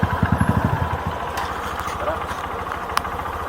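A 125 XR motorcycle engine idles nearby with a quick even chugging pulse for about a second, then settles into a quieter rumble under background noise.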